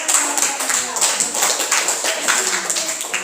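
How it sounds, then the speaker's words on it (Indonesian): A group of classroom participants claps hands together in dense, steady applause lasting several seconds, with a voice speaking over the clapping. "Applause for the second group."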